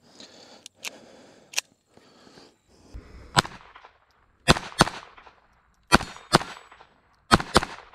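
A Walther P22 .22 pistol fires standard velocity rounds at close range, giving about nine sharp, loud cracks in an irregular rhythm with short pauses between them.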